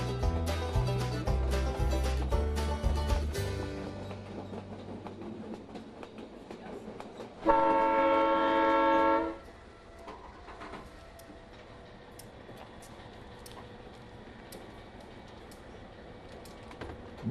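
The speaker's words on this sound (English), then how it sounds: "Picking up speed, the train runs along the Skagway River" The White Pass railway train picks up speed along the Skagway River through coastal forest, its wheels and cars rumbling and clattering, with a sustained loud horn-like tone for about two seconds midway before the rolling noise fades lower.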